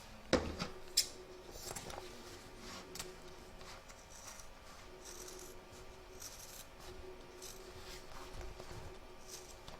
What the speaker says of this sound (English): we're going to cut around the edge of the stitch line there